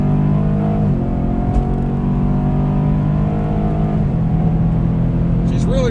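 A Chevrolet Camaro SS accelerates hard through a 60-130 mph run, its engine droning loud and steady from inside the car with gradually rising pitch, interrupted by quick gear-change dips.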